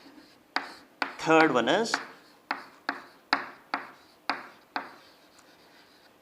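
Rapid back-and-forth rubbing on a board during a structural engineering lecture, a series of about nine sharp, evenly paced scrubbing strokes, close and fairly loud, with a brief stretch of speech near the start.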